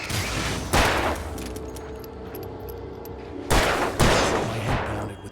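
Gunshots in Alan Wake Remastered, two loud close blasts a few seconds apart, each followed by a ringing decay over a low, tense game ambience, with no talk.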